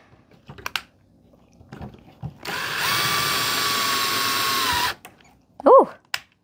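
Power drill cutting through a plastic letter badge on a Ford Bronco, one steady close whirring burst of about two seconds, with scattered clicks and brief talk around it.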